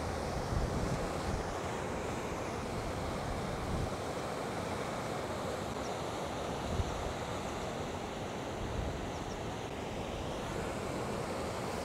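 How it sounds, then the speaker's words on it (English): Strong wind buffets the microphone over lapping waves along a reservoir bank, a steady loud roar of gusts and surf running throughout with no pauses. "It's really windy"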